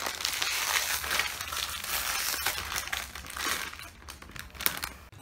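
Stiff plastic packaging crinkles and crackles as it is forced open up close, in loud, dense bursts of crushing and rustling that ease off near the end.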